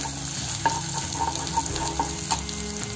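Ginger-garlic paste roasts in a pan with a steady close sizzle, while a spoon scrapes and knocks against the pan in a loose rhythm of light taps. No one speaks.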